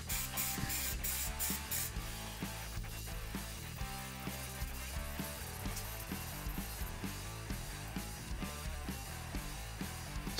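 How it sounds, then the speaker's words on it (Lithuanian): Matte black spray paint hisses from an aerosol can in steady bursts and longer passes while a spoiler for a Mazda Miata is coated, close and continuous. "Jau nupučiau juodais dažais"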